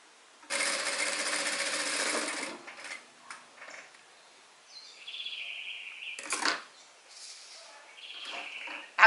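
Sewing machine stitching fabric pieces for a small fish-shaped keychain, with a steady two-second run of stitching followed by shorter bursts and pauses, close and fairly loud.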